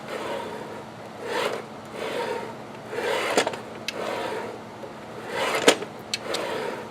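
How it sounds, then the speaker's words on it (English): A Harbor Freight sliding miter saw carriage is pushed back and forth along its rails, giving repeated smooth rubbing, rasping glides at a steady rhythm with small clicks at the ends of travel, close and fairly loud, no voices. "I like the way it slides too."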